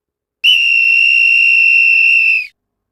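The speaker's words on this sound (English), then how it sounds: "the whistle came again" One long, steady, high-pitched whistle in the woods at night, sounding loud and close, holding an even tone for about two seconds before cutting off into silence.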